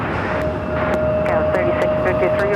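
A steady loud roar of an airplane taking off at Los Angeles LAX airport, continuous and broadband with a thin whining tone running through it, heard from the spotting area with a voice talking over it.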